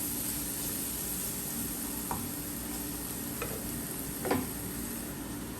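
Crushed ginger and garlic fry in a pot for mutton soup with vegetables, giving a steady close sizzling hiss broken by a few faint stirring clicks, with no talking.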